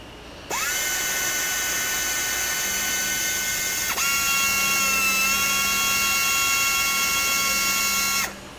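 Small-hole tapping machine cutting threads through aluminum, a loud steady high-pitched motor whine with a brief dip and pitch shift midway, running alone for about eight seconds before stopping.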